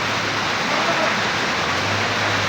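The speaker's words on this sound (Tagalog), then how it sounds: "ito na yung unang ulan sa buwan ng Mayo" Steady heavy rain pours down in a dense, continuous hiss, loud and close, with no voices; the first rain of May.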